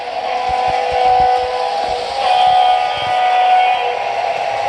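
A model train runs along a layout track with a steady mechanical hum and a soft tonal whine, broken by light rhythmic clicks and taps from the wheels over the track. No one speaks.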